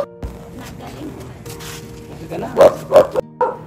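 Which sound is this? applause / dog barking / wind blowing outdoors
dog barking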